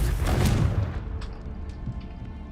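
Confringo spell explosion in a Hogwarts video game, a single loud boom that bursts at once and then fades into a softer crackling tail.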